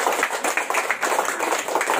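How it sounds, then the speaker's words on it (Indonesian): A class of schoolchildren claps for their teacher, a quick burst of many small hands beating in a rough, uneven patter nearby. "Tepuk tangan untuk Pak Melki."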